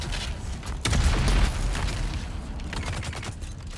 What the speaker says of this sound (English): Let's see if I can rocket these guys down